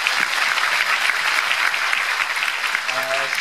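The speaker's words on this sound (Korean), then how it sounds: "박수 한번 보내주시고요" An audience at a political talk concert in a Busan chamber of commerce hall claps loudly and steadily for the whole stretch, a dense roomful of hands with a voice rising briefly near the end.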